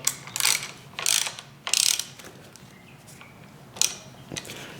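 A ratchet tightening the throttle tube clamp on the handlebar of a 2000 Kawasaki KX125 dirt bike, several short bursts of rapid clicking at close range, alone.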